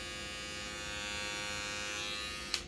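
An electric shaver switched on, giving a steady close buzz with a sharp click near the end, and no voices.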